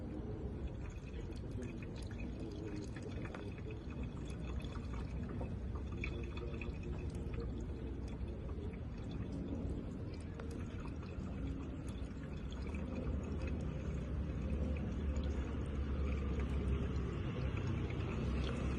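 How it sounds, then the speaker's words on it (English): Premixed windscreen washer fluid poured from a bottle into the reservoir of a Mercedes C-Class, a continuous gurgling pour over a low rumble that lasts throughout, with nobody speaking. "You grab the bottle and then you just pour it in there,"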